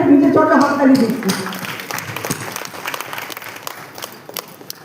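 An audience at an event claps in a dense burst of applause that starts loud and thins into scattered, fading claps, with voices murmuring underneath.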